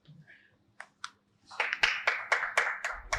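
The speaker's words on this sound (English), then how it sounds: "Can you give him a round of applause" Applause at a company annual general meeting for a managing director and CEO starts with a few scattered claps, then builds into a short burst of rhythmic clapping from a small audience.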